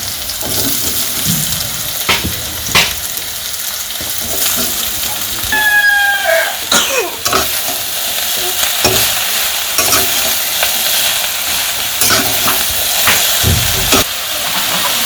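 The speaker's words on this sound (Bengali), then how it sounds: "তো পেঁয়াজ কাঁচামরিচ ভাজা হয়ে গেছে, এখন শাপলাগুলো দিয়ে দিই।" Water lily stems stir-fried with onion and green chili hiss and sizzle loudly in a pan, with repeated scraping stirs and steamy crackle throughout.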